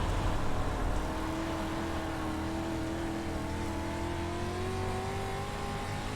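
A dirt street stock car engine in the iRacing simulator at Limaland drones and climbs steadily in pitch under throttle, loud and continuous throughout with no voices.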